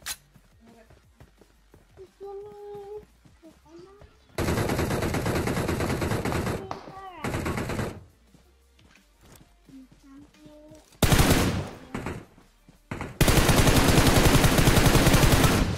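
Bursts of rapid automatic gunfire in a zombie-mode battle royale shooter erupt loud and dense in several long volleys, broken by quieter stretches of faint game ambience and short tonal cues.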